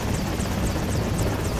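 A helicopter's rotor in the video game Prototype chops steadily overhead, a continuous beating thrum with a pulsing high whine, loud and without voices.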